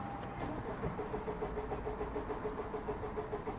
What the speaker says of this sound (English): With the bigger battery booster, the car fired up and immediately died.